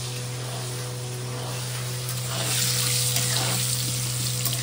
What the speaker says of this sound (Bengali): এই যে আলুটা একটু কষানো হয়ে যাচ্ছে